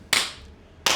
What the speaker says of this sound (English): Right, Angus, you know what to do. Clap us in.